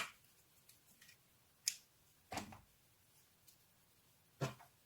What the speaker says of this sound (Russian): Итак, отрезаем нитки.